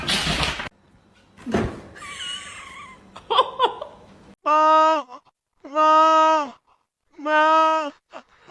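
A cat given catnip lets out three long, drawn-out yowls in a row, loud and close. Before the yowls come some scuffling, knocking and brief thuds.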